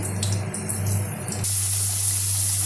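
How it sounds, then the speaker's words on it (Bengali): Potatoes frying in hot oil in a wok give a steady, loud hiss and spray-like sizzle, with a low hum underneath and the sizzle growing brighter and fuller partway through. "কড়াইতে তেল দিয়ে দিয়েছি, তেল গরম হয়ে গেছে। আলু দিয়েছি, আলুগুলো ভেজে নেব একটু লাল লাল করে।"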